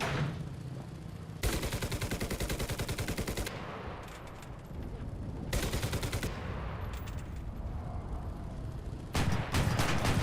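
20 mm autocannon on an Autoblinda 41 armored car in War Thunder, firing in three loud, rapid bursts: a long stream early on, a shorter one midway, and a final burst at the end, with engine rumble between.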